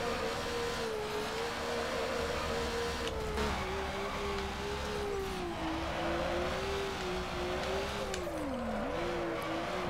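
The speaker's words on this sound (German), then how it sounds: "So, jetzt versuchen wir aber auf jeden Fall eine gute Runde zu driften mal." Car engine drifting in Need For Speed Underground, a loud, steady revving drone that dips and rises in pitch as the car slides, continuous and alone without talk.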